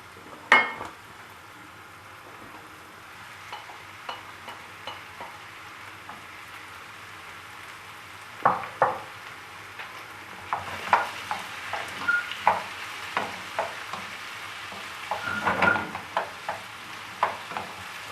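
Meat sautéing with peppers and onions in a pan for tacos, a soft continuous sizzle broken by frequent clinks and scrapes of stirring that grow busier toward the end.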